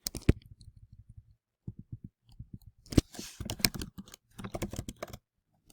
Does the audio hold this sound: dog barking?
no